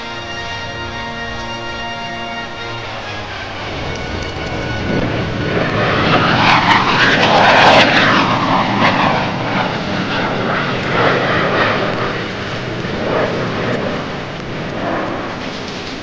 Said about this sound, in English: the Stealth Fighter.